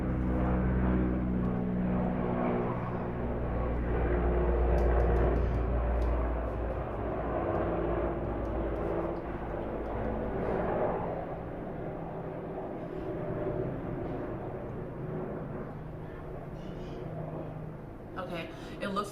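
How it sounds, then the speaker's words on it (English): A propeller airplane drones overhead, a loud low rumble that swells and slowly fades over many seconds while a person talks through it. "let me let that airplane pass. I don't know. It's loud to me."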